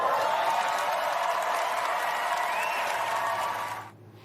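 An award show audience applauds in a dense, sustained wash of clapping that fades out near the end.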